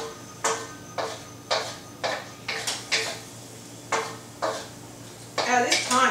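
Beef being stirred in a pan, a spatula scraping and knocking in a steady rhythm of about one stroke every half second, with quicker strokes at the end.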